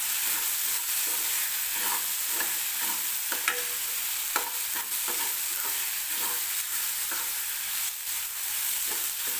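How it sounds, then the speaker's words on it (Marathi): Ginger-garlic paste frying with onion and tomato in a pan for poori bhaji, a loud continuous sizzle with frequent sharp spatula scrapes and taps. "मी आलं लसूण सुद्धा व्यवस्थित ही पेस्ट याच्यामध्ये टाकल्यानंतर भाजून घेतलेलं आहे"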